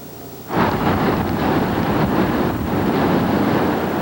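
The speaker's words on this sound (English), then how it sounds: "today the big factor was wind, and it made for a miserable day here down the shore" Loud, steady roaring wind gusting at the shore buffets the microphone after a brief quieter start, with a broad rushing noise that swells slightly but never lets up.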